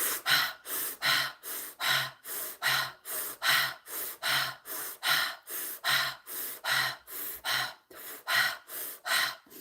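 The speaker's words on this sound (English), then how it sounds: "You want to breathe in through your mouth, expanding your belly, sucking in your belly." Steady, deep breaths drawn in and pushed out through the mouth, about two per second, each a loud rushing gasp in an even, unbroken rhythm.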